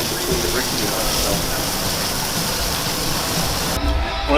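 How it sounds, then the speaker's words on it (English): A pressure washer rinses sand across brick pavers, giving a loud, steady hiss and spray that stays constant and close without a break. "There's enough water pressure here that this is moving the sand nicely without actually removing the sand between the brick units."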